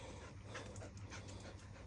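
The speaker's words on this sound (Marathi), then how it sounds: "आले कुत्रे आले" Dogs on a hill fort trek at Sarasgad in Raigad district pant rapidly and steadily, close by and faint, with no talking.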